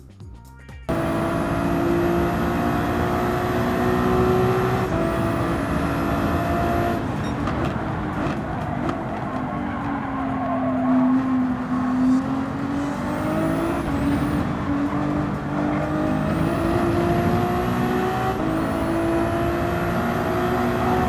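Ferrari 296 GT3 race car engine in Gran Turismo 7, a steady, loud droning engine note that rises and dips in pitch as it holds speed, with brief upshift-like sweeps, continuous and alone without talk.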